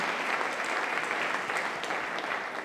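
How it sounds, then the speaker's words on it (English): An audience breaks into applause, a dense, even wash of clapping that holds steady throughout at a moderate level, with no one speaking over it. "big round of applause."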